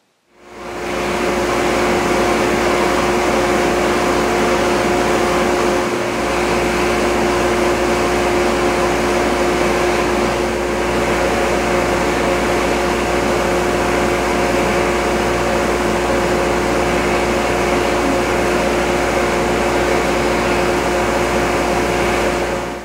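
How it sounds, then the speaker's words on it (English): Laser cutter working through CAD-CUT Premium Plus heat transfer material, a steady, loud machine drone with constant fan-like air rush and a faint tonal hum, running alone without any talk for over twenty seconds. "With the files prepared, now we can send them over to the laser."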